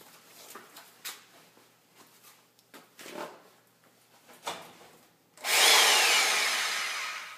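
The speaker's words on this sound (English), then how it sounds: "Versus a bandsaw." An iPhone 3GS is fed into a bandsaw: scattered handling knocks and clatters, then the blade bites in with a sudden loud, harsh grinding rasp that holds and slowly fades.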